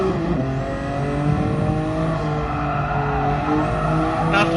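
Race car engine on the Spa circuit in Gran Turismo Sport, a loud sustained engine drone with shifting pitch as it accelerates and changes gears, no talk.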